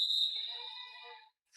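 A referee's whistle sounds to end a roller derby jam, one long, shrill, steady blast held for over a second before fading out, heard alone and fairly close.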